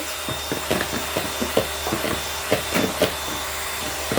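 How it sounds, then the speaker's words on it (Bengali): An electric mixer beats egg yolks for a chocolate cake, a steady whirring hum punctuated by rapid, repeated clicks and taps of the beaters against the bowl. "ডিমের কুসুম দিয়ে আমি ভালোভাবে ফেটে নিব ফোমে পর্যায়ে চলে আসবে"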